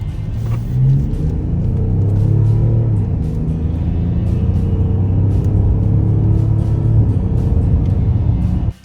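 A 2025 BMW X5 xDrive30d diesel luxury SUV accelerates hard, its engine a steady, loud low rumble and whir that builds and holds through the run with no voices.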